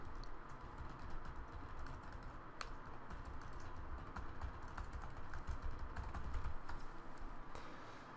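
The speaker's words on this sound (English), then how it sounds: "I can just type in the question text" Quiet, continuous typing on a computer keyboard, with soft rapid key clicks over a low steady background hum.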